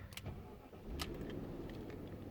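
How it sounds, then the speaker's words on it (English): A BMW 740i engine cranks briefly on a new battery, then catches and settles into a steady, close running rumble. "See if this car will start on its new battery."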